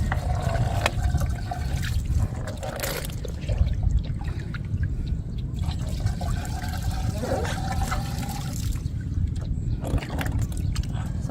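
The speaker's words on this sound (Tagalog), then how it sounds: "So, lalagyan na po natin ng tubig hanggang mapuno." Water runs into a container until it is full, a steady pouring and trickling stream with splashy bursts, heard up close under people talking.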